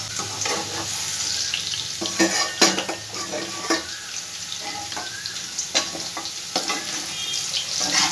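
Potatoes fry in a pan for niramish mochar ghonto, heard as a steady sizzle broken by repeated scraping and clinking of a spoon against the pan, with no voices.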